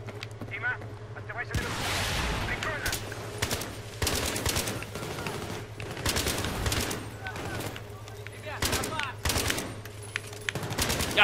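Battlefield 3 combat fills the space with chattering machine-gun bursts and heavier single shots over a constant low rumble, loud and close, with a player talking over the firing.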